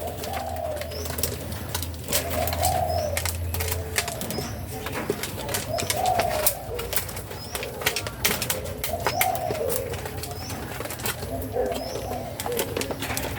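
Young doves of a large Malay-bred line cooing and scuffling over food, with repeated soft coos, bursts of wing flapping and pecking clatter, while someone talks under them.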